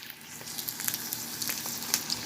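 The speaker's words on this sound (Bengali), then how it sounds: "ডিম ভাজতেছি এখানে" Eggs fry in a pan with a steady close crackle and sizzle, fine pops scattered throughout, quiet and with no talk.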